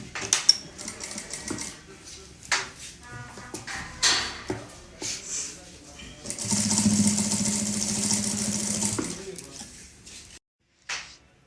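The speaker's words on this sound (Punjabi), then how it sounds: "ਬੁਕਰਮ ਦੇ ਬਿਲਕੁਲ ਕਿਨਾਰੇ ਕਿਨਾਰੇ ਤੇ ਅਸੀਂ ਸਿਲਾਈ ਲਗਾਉਣੀ" A sewing machine stitches along the edge of buckram laid on a velvet salwar hem, running in one steady close whir for a few seconds, with handling clatter and a voice speaking before it starts.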